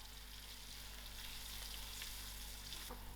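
Cinnamon stick and masala spices frying in hot oil for cabbage and gadra, a steady close crackling sizzle throughout with a faint stir near the end, no voices.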